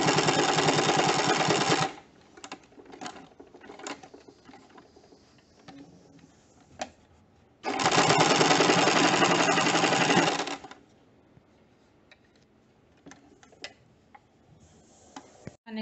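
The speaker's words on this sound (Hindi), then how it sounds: "सुई अंदर रखकर इस तरह से इसको टर्न कर लें और स्टिच करें।" A sewing machine stitches a fabric face mask in two loud, steady runs at the start and middle. Quieter handling noises and small clicks fill the pauses between the runs.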